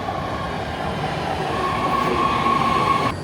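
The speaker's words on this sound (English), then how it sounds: "This is a Blue Line train to Dublin Pleasanton." Bay Area BART Blue Line train running steadily and loudly, a continuous rumble with a faint high wheel squeal building midway, no voices.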